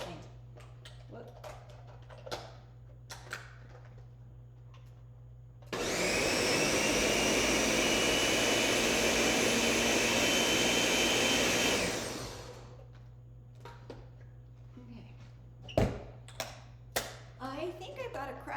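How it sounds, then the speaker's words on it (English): A kitchen blender whirs loudly for about six seconds while blending salsa, its blades giving a steady roaring buzz that starts abruptly and winds down, with clicks and handling noises before and after. "I think I've got a crack in the bottom of my blender."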